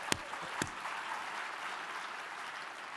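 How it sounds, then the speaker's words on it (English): An audience at a closing plenary session of a general assembly applauds for Sheila Katz, a soft, fairly distant patter of clapping after two sharper knocks near the start, steady and even throughout. "let's applaud for Sheila."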